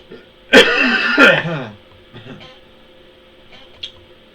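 Two sharp coughs in quick succession, close and loud, followed by a faint third hack and quiet room noise.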